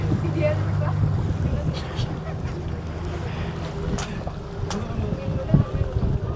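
Tourist boat out at sea off Goa on a dolphin-watching trip, a steady low engine drone with wind buffeting the microphone and a few sharp knocks, voices faint in the background.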